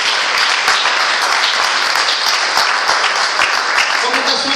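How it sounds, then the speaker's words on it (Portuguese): Sustained, loud applause from a church congregation, brisk clapping packed together without a break, with faint voices rising through it toward the end. "Então um aplauso ao Senhor"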